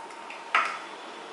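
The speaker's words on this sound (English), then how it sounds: "I'm just going to take a wok like this just to heat the ghee." A metal wok set down or handled for heating ghee for wheat laddus, one sharp clattering knock with a short ringing decay, close and alone against a quiet room.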